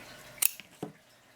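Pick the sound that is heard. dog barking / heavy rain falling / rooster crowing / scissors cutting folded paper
scissors cutting folded paper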